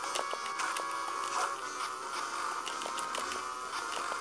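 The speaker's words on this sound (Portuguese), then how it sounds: "tem essas abelhas também, são muito chatas" Bees buzzing in the Mega Drive game Beyond Oasis make a steady, continuous electronic drone. Faint clicks and game effects tick through it.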